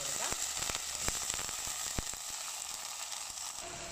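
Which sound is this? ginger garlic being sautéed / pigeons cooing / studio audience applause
ginger garlic being sautéed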